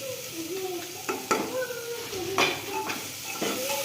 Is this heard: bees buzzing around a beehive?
no